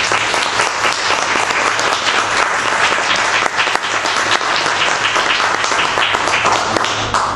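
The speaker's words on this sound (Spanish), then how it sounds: "Se encuentra con nosotros para que les pida un caluroso aplauso." Warm audience applause greeting an author at a book presentation, loud, dense, sustained clapping from a full room that holds steady throughout, with a low hum underneath.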